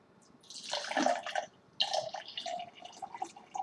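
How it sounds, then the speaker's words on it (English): Water poured from a tap into a glass holding lemon juice, close and fairly quiet, in two splashy bursts with dripping and trickling between them. "So I'm going to add water now."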